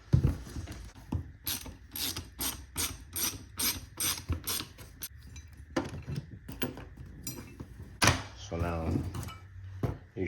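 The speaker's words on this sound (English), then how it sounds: "So the first thing I need to do is take this bolt out, because I can't get inside the hole, so I'm gonna unscrew that right now." Ratchet clicking in quick repeated bursts while a bolt is unscrewed on a Yamaha FZ6 motorcycle during a stunt cage install, with clinks of metal parts and someone talking partway through.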